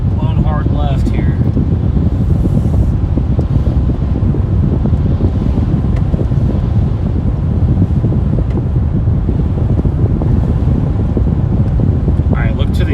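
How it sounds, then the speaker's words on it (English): Strong storm wind buffets the microphone continuously during a tornado chase in Tennessee and Kentucky, a loud steady low roar throughout, with faint voices underneath. "It is windy."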